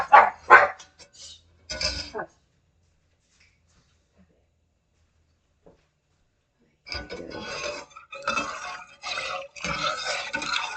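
A dog barks in a few sharp bursts at the start, then silence, followed by more rough, scratchy barking and yapping.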